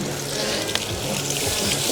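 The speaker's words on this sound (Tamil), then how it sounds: "ஊத்து தண்ணி ஓர ஊத்துறோம் இன்னும் கொஞ்சம் ஊத்து" Water splashes and runs steadily into a cooking pot of biryani, a continuous gushing pour with a faint low gurgle beneath.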